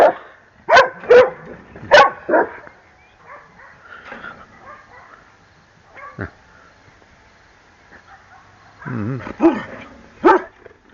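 An energetic dog shut in a yard barks in sharp bursts, a few loud barks early, quieter yips and whimpers in between, then another cluster of barks near the end.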